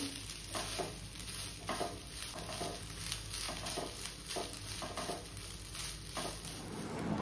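Fried rice cooks in a pan with a low, continuous sizzle, broken by regular scraping strokes of a spatula stirring it, steady and close throughout.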